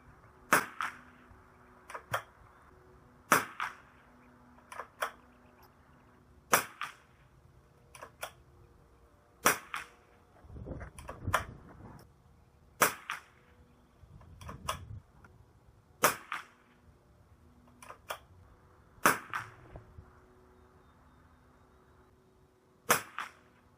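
Rimfire shots from long-barrel rifles, including a Kimber 82G and an Anschutz, firing CCI Standard Velocity ammunition at 50 yards, sharp single cracks repeated at irregular intervals over a quiet background with faint low rumbling between some shots.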